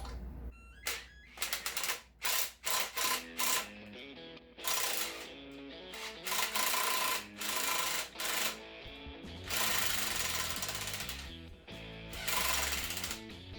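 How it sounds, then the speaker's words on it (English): Cordless impact wrench driving bolts into a 2007 Harley-Davidson FLHTCU transmission during a rebuild: repeated loud rattling hammering bursts of varying length, close up, with short pauses between runs and no talking. "I got my impact wrench. I'm not going to tighten them down. I'm just going to drive them in."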